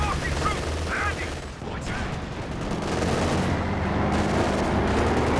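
Katyusha rocket artillery fires in a Company of Heroes 2 battle, a dense rumbling barrage of overlapping blasts that holds loud and steady for several seconds.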